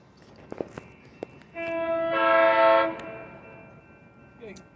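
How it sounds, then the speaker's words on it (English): Amtrak Capital Corridor train 732 pulls into the Sacramento station, sounding a loud, sustained horn chord of about a second and a half after a few sharp clanks, with rumbling rail noise before and after. "Here comes Amtrak 732 pulling into Sac for a stop."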